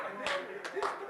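A group of people claps in unison during a seminar game, three quick separate claps spaced close together, moderately loud against a quiet room.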